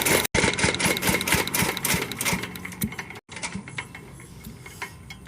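A diesel engine idles with a steady mechanical clatter and rhythmic knocking, close and fairly loud, briefly cutting out twice before running on alone; a possible fuel line fault.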